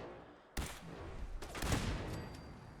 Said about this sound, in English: and there's another machine gun turret